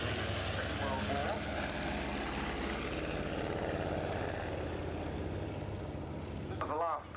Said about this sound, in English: This was the last pass by the two aeroplanes in that formation.